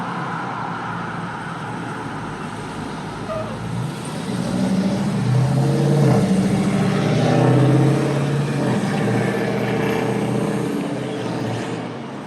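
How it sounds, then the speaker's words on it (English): Road traffic flowing on Highway 78 and 81, a continuous roadway rumble that swells as a vehicle passes close by midway, then eases back to a steady wash. "Always a steady flow of traffic."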